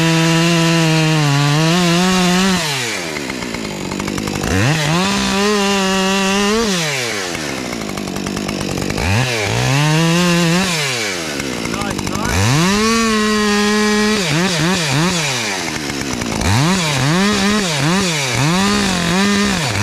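A chainsaw cuts a notch beneath a tree limb, loud and close, its engine repeatedly bogging down under load in the wood and revving back up in long waves.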